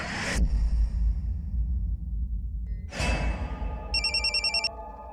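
A telephone rings in a Hindi crime drama, with a short electronic ringtone burst near the end following two loud whooshing swells.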